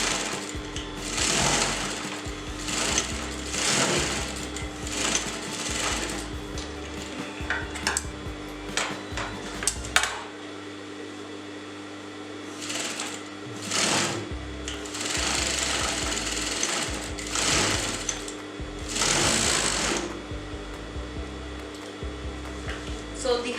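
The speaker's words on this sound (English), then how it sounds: "So now I'm just sewing the next side of the handle" A sewing machine stitches along the side of a cotton tote bag handle in bursts of steady whirring, with short pauses and some clinking between runs.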